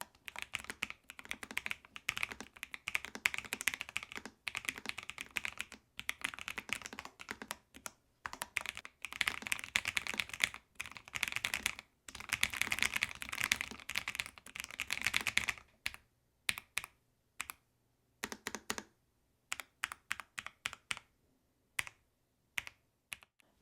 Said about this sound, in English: Let me give you a quick test of the tactile switches we have over here.